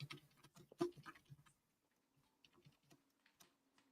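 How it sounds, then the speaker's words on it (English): Typing on a keyboard gives a cluster of soft, close clicks and taps early on, then sparser faint keystrokes in a quiet room. "I'm typing. I know you hear me."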